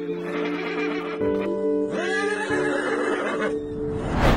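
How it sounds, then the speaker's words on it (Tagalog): A horse whinnies loudly beside a coffin at a funeral, a long wavering neigh rising and falling, followed by a brief rustle at the end. "kabayo na ito na para bang umiiyak sa harap ng kabaong ng kanyang namayapang amo"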